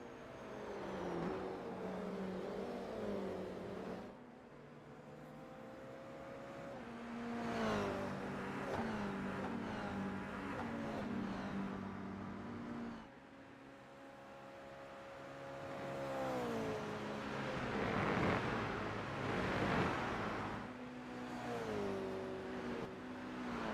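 Toyota GR86 race cars lapping Watkins Glen International, engines revving loud and near with rising and falling pitch as the cars accelerate, shift and pass in succession, with no talk over them.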